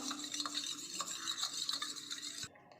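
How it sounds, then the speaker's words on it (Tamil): A spoon stirs sugar syrup in a bowl, quick rhythmic scraping and clinking close by, stopping abruptly near the end. "நம்ம அதெல்லாம் நல்லா கலக்கி விட்டுக்கலாம்"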